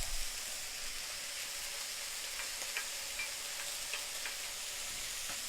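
Ginger and garlic frying in a hot pan for Kung Pao chicken, a steady close sizzle and crackle with faint scraping stir clicks scattered through it and no talking.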